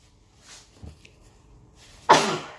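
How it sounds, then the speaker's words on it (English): A single sharp sneeze bursts out near the end after soft breathy sounds, close and sudden. "I've got a fit of the sneezes."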